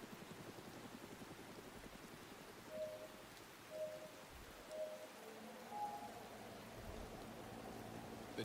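Steady rain pours throughout a wet race in the RIDE 6 motorcycle game, a broad even hiss with a few short tonal beeps rising above it.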